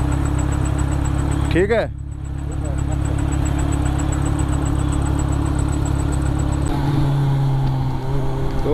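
A Royal Enfield Himalayan motorcycle engine idles with a steady, loud thumping rumble close by, briefly interrupted by a short rev around two seconds in, while someone speaks over it.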